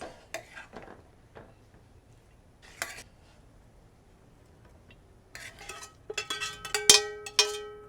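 Brussels sprouts glazed with maple bourbon being spooned into a serving dish, with light scattered scrapes and then a cluster of sharp clinks and taps of utensils against the dish toward the end.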